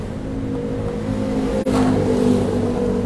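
A washing machine, shown with an E1 error fault, is plugged in and switched on, giving a steady low motorized hum that runs alone throughout, with one brief dropout partway through.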